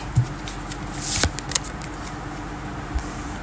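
Tarot cards being shuffled by hand, with a few soft papery riffles and taps, one sharper slap near the middle and a light tap near the end, quiet and close, with no talking.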